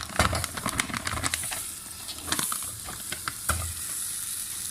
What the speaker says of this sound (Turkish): Margarinimizi koyuyoruz